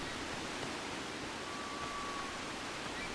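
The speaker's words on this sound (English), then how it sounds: "That should shut off the waterfall for us." Waterfall in the video game Ico, a constant soft broadband rush of falling water, steady and faint throughout, with no voices over it.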